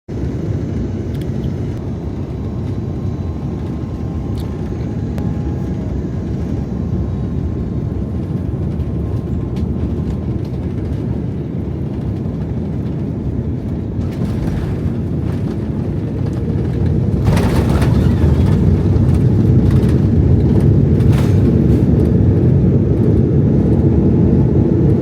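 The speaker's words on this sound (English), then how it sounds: "Quite a bumpy landing" Cathay Pacific Airbus A330 airliner landing in Hong Kong, heard from inside the cabin: a loud, steady broadband roar of engines and rolling that swells louder in the final seconds, with no talk.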